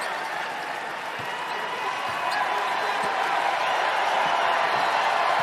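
Basketball arena crowd cheering at The Ville (Louisville alumni) versus Boston v Cancer in a TBT 2025 Round of 64 game, a dense wash of voices that swells slightly louder, with faint court thuds and an announcer beneath.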